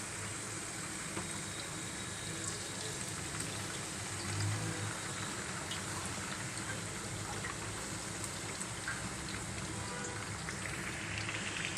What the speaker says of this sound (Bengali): আমি চিকেনগুলোকে ডুবো তেলে ভাজবো।